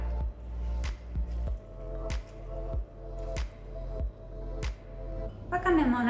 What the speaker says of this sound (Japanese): 最初に塩もみをしたきゅうりを水で洗って水分を絞ったら甘酢の中に入れていきます